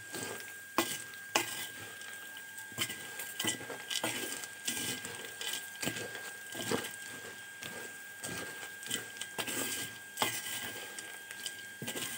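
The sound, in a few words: stirring koshari ingredients together in a pot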